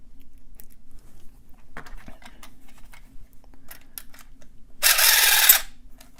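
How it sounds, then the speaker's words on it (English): A lock being picked with a pumpkin carver and a tension wrench: scattered small metallic clicks and ticks at close range, then a brief louder rasping burst near the end, without any talk. "This person discovered that you can pick locks by using a pumpkin carver."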